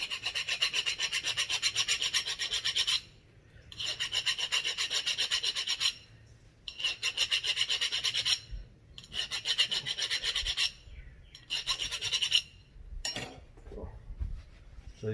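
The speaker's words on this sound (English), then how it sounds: "all I did was just go around with the file, take off most of that rough texture" Hand file rasping a buggy bushing in repeated bursts of quick back-and-forth strokes, close and bright, separated by short pauses, with no voices.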